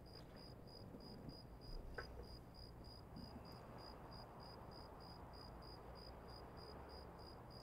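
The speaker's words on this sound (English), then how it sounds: "Crickets are not this loud." Loud, steady cricket chirping in the video game Escape from Tarkov pulses rapidly and continuously over a noisy ambient bed, with no talking.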